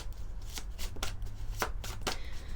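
Sacré-Cœur oracle cards being shuffled by hand: a string of crisp riffling bursts, about five distinct swishes spaced unevenly, close and clear over a low steady hum.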